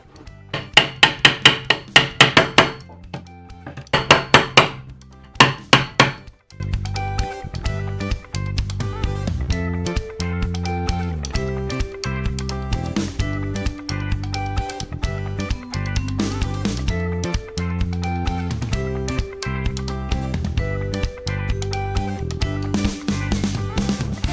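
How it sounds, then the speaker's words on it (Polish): Chisel struck by a hammer to remove wood from a chest of drawers, opening with several bursts of sharp knocks, then a long run of steady, closely spaced loud blows, up close with no talking. "Myślę, że dłutem, jak już ma to odejść, to dłutem pewnie będzie najszybciej."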